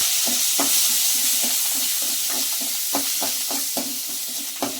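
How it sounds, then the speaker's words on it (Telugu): Dried red chillies and curry leaves fry in hot oil for a betel leaf rasam tempering, giving a loud, continuous close sizzle broken by rhythmic spoon scrapes and stirring taps. "అన్నీ బాగా వేగాలండి మిరపకాయలు మాడనివ్వకండి చేదు వచ్చేస్తుంది ఇలా వేగనండి"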